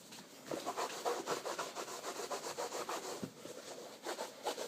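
A leather shoe being rubbed down during shine prep, with close, rhythmic scrubbing strokes of cloth on leather repeating steadily throughout.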